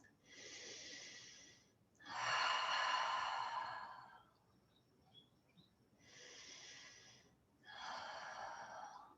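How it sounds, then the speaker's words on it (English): Deep breathing during meditation, four slow, close breaths alternating in and out, each a soft airy rush lasting about two seconds, separated by quiet pauses. "Last 2 deep breaths."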